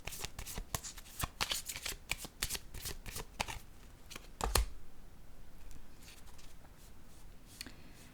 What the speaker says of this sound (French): je vais piger une carte rose pour la personne qui a choisi de s'aimer et d'aimer